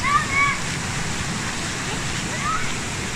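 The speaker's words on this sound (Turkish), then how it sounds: "su şırıltısı, akıntısı öyle güzel ki insan yürüdükçe rahatlıyor" Water rushes steadily at a historic waterfall in Germany, a broad, continuous roar close by with a few faint bird chirps.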